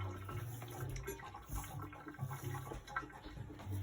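Water runs steadily from a kitchen tap as hands are washed, a soft continuous splashing heard at low level from close by, with faint clatter and no speech.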